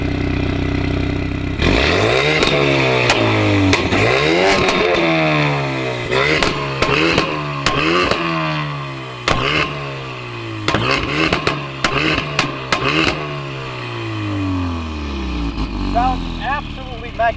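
Ford Focus RS in track mode revved hard repeatedly, loud sharp engine climbs and falls close by with crackling pops and bangs between rises, ending in a fading rev and quieter burbling.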